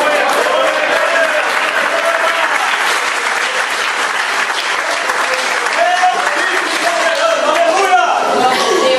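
Loud sustained applause from a large church congregation, dense and continuous, with a few voices calling out over the clapping.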